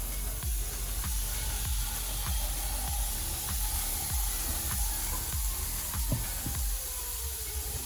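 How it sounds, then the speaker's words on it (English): Chicken broth sizzling and steaming over shiitake mushrooms in a skillet for a meatless pot pie, a steady close hiss with faint crackles and occasional soft clinks throughout. "We're only putting a little bit in to help steam the mushrooms"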